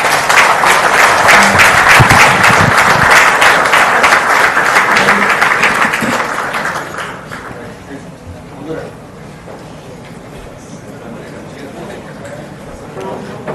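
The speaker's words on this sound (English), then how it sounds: "Can I request you all to welcome him with a round of applause" A crowd applauds loudly with dense, steady clapping for about seven seconds, then it fades into a quieter room with faint murmuring.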